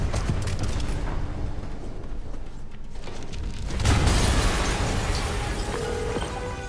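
A video-game explosion from Marvel's Spider-Man rolls in as a loud, rumbling burst of debris. After a brief lull, a second heavy blast swells and keeps crackling in a sustained roar.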